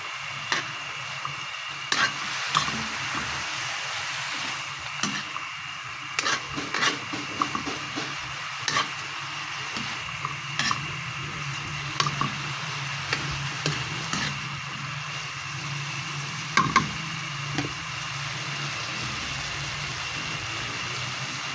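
String beans (sitaw) stir-frying in a pan for pakbet with shrimp, a continuous soft sizzle broken by irregular scraping and clacking of the utensil against the pan.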